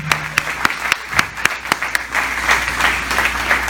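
A church congregation at an Assembly of God service applauds, starting as a few loud, separate claps that quickly merge into a steady wash of clapping across the room, with no voices over it.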